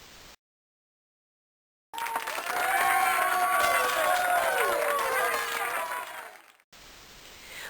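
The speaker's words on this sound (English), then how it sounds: "I hope that applause was nice for you there" Crowd applause and cheering rise after a brief silence, a dense burst of clapping mixed with excited voices that swells, holds for several seconds and then drops away abruptly.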